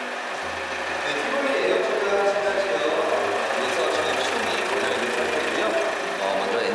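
A used SsangYong Tivoli engine idles steadily during an inspection, with a low, even mechanical hum and light rattling. Speech is faintly present in the background.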